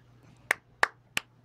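Three sharp, real hand claps, evenly spaced about a third of a second apart, close and loud over a faint low hum in a quiet room.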